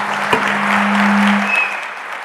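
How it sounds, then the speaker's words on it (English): An audience at an international astronaut gathering applauds a commercial space panel, a brief burst of crowd clapping that swells, holds, then tapers off, with a steady tone humming underneath. "How about a round of applause for our commercial space panel?"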